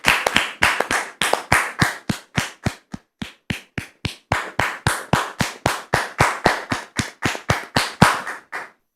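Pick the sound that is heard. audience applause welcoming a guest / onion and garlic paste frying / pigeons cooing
audience applause welcoming a guest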